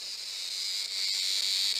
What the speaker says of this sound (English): My cat brought home a cicada.